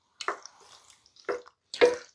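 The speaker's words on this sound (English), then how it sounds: "We're gonna add in those noodles a little bit at a time" Noodles dropped a bit at a time into a pot of simmering Cajun sausage pasta, three separate wet plops and splashes with quiet bubbling between them, close and faint.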